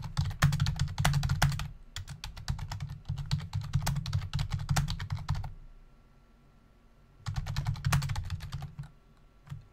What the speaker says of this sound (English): you guys will hear me typing